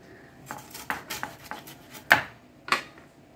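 Hilsa fish being cut into pieces with a knife on a board, a series of sharp, close chopping knocks at an irregular pace, the last few louder and more isolated, in a quiet kitchen.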